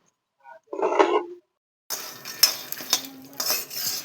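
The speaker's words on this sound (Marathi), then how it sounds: "छान असं सारखं हलवत राहायचं आहे आपल्याला गुळाला जोपर्यंत एक जीव होत नाही" Metal spoon scraping and clinking in a pan while lumps of jaggery are stirred to melt for til-gul laddoos, heard as a short burst, a pause, then a busier stretch of scrapes and clinks close by.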